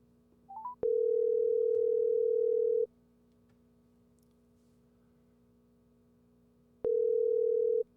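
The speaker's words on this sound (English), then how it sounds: "let's see if we can get Brant on the phone" A telephone line tone sounds while a call is placed, a steady electronic hum that starts after a short rising chirp, holds for about two seconds, falls silent, then returns briefly near the end.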